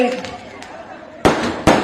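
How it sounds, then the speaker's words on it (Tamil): Firecrackers burst at an election victory celebration in South Chennai: two sharp, loud cracks close together over a bed of crowd murmur and talk. "இந்த பட்டாசு வெடிக்கிறது"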